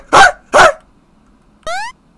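Dog barking in a video game: two loud, close, sharp barks in quick succession, a short pause, then a rising whine-like yelp, crisp and isolated against silence.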